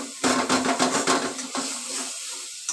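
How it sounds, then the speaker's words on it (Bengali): Spice paste for a spicy Bengali boal fish curry being stirred and fried in a pan with a splash of water: repeated scraping clinks of a spatula against metal over a steady sizzle, close and clear. "মশলাটা নেড়ে নিই খানিকক্ষণ, সামান্য একটু জল দিয়ে কষাচ্ছি মশলাটা"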